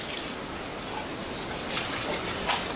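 Compost tea is poured onto conditioning straw bales in an organic garden as a steady, close splashing trickle of liquid that swells slightly toward the end.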